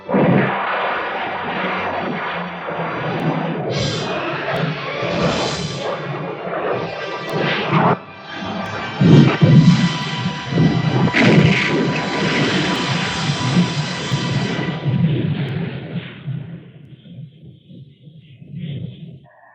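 Naval guns fire during a sea battle in a science fiction film, a dense rumble of heavy booms and blasts layered under a continuous roar, loud throughout and fading toward the end.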